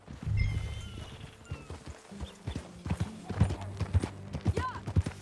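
Horse hooves clip-clopping in Red Dead Redemption 2, a steady run of close, sharp hoof beats on the ground with a brief neigh, while people talk quietly over the riding.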